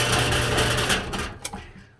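A homemade rock and brass tumbler, its barrel driven by rubber, turns with a steady mechanical whirring rattle that winds down and fades into quiet near the end.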